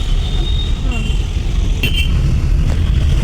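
Vehicles idle and pass near the Junnar bus stand, a steady low roadway rumble with a brief higher tone partway through, close and loud, without speech.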